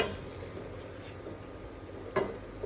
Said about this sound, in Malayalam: ഇതിലേക്ക് ഈ മാരിനേറ്റ് ചെയ്ത് വെച്ച ഒരു നന്നായി മിക്സ് ചെയ്ത് കൊടുക്കണം.